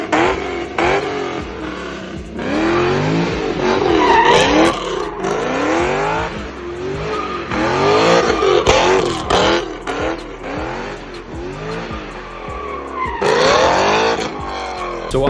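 A Mitsubishi 3000GT drift car revs hard with rising and falling engine sweeps, and its tires skid and squeal throughout a loud, continuous run.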